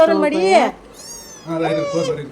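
A cat meows twice in drawn-out, wavering calls near the microphone while curd rice is given to it, with a brief high tone between the two meows.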